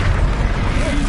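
A Confringo blasting spell explodes in a Harry Potter video game, a dense, loud rumbling roar filling the whole moment with no clear start or end, close and heavy.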